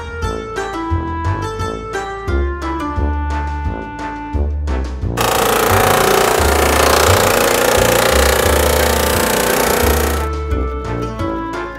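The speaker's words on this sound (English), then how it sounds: "He hoped Rubble's drill attachment would go through the chocolate." A toy drill attachment buzzes for about five seconds in a harsh, loud, continuous whir against a chocolate egg, set between stretches of playful background music.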